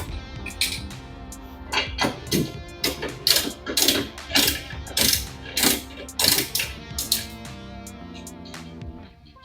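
A ratchet wrench clicks in quick, repeated bursts while loosening the size 14 stator nut on a washing machine that fills but won't spin, loud and close, with brief pauses between runs.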